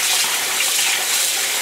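Cold tap water gushes steadily into a pot in a kitchen sink while making cottage cheese, a continuous close hiss and splash with no pauses.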